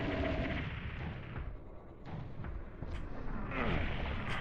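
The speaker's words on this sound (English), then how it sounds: "this time I'm trying the plasma gun" Rapid plasma gun fire in Final Doom on PlayStation, a dense, continuous stream of shots mixed with game explosions and impacts, loud and steady throughout with no talking.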